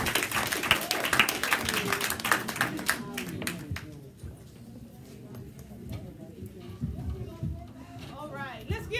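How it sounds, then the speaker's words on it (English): Audience applause at a live talk event, dense clapping in the first few seconds that thins out and fades under ongoing voices and crowd chatter. "Let's clap for her."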